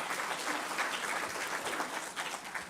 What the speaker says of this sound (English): She deserves a round of applause because she did an excellent job.